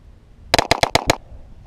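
Five rapid gunshots fired outdoors at a farm, likely from a .38 revolver, crack out in a quick, evenly spaced burst, loud and close, followed by quiet.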